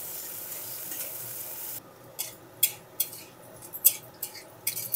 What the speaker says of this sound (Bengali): উচ্ছেগুলো একটু লাল লাল করে ভেজে নিতে হবে।